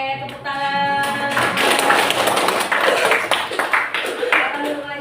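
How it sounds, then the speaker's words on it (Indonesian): A burst of clapping from a group in a classroom, dense and continuous, with children's voices and chatter mixed in throughout. "tepuk tangan"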